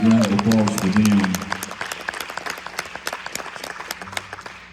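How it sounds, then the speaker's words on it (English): A concert audience at a 90s country music show applauds and cheers for the other artists, the clapping steady and lively after the singer's voice at the start. "Big round of applause for them."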